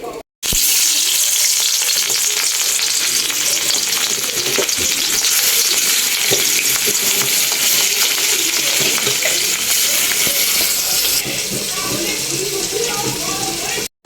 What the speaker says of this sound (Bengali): আমি এদিকে রুই মাছটা ধুয়ে নিছি, আমি এটা ভেজে নিব এখন